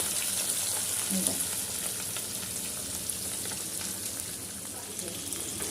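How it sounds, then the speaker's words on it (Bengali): Fish fry in a pan of hot oil, giving a steady, close sizzle that continues evenly with small crackles and occasional faint stirring. "এখানে দেখো মাছগুলো আস্তে আস্তে সব মাছগুলো ভেজে নিই"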